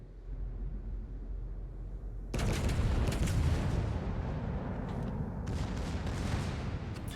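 A sudden heavy boom of naval artillery in World of Warships during a battleship match, followed by a sustained rumbling roar and scattered distant blasts.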